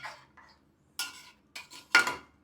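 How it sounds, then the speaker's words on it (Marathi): Spoon scraping and clinking in a pot while mutton curry masala is stirred, a few short separate metallic strokes with quiet gaps between them. "आणि पुन्हा एकदा चांगल्या प्रकारे मिक्स करून घेऊया."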